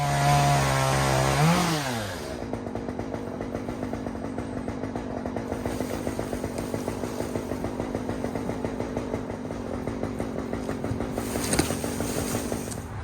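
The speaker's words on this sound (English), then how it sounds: "Simply gonna use a chainsaw." A chainsaw revs up loudly, then settles into a steady buzzing idle close by, running continuously with a brief surge near the end, on a homestead.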